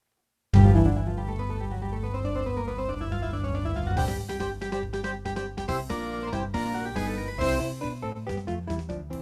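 Elite EX arranger keyboard playing a style with jazz guitar and orchestral parts: sustained orchestral chords open, then a rhythmic band groove with guitar comping enters midway, clear and moderately loud with no talking.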